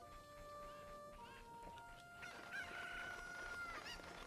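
Chickens clucking in the video game Ocarina of Time, a run of nasal, wavering clucks and drawn-out calls over a steady game music background, moderately loud and without talk.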